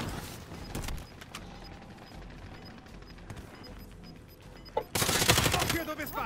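Submachine gun bursts in a battle royale video game, sporadic sharp shots early then a loud sustained burst of rapid fire near the end.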